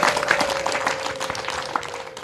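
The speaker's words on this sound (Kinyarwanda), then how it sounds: "mwongere mubahe amashyi n'impundu nyinshi cyane" Continuous crowd applause with high ululation at a wedding celebration, a dense steady roar of clapping that keeps going the whole time without breaking.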